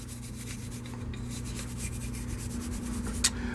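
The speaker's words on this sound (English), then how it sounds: "So the slide, just going to give a little scrub in here, down the rails." A brush scrubs along the slide rails of a Sig P320 AXG Pro pistol during deep cleaning, making close, steady bristly rubbing strokes over a constant low hum, with one sharper scrape near the end.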